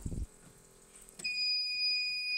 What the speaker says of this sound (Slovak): Bzučiak má celkom nepríjemný zvuk, takže otočením spínaču ho vypneme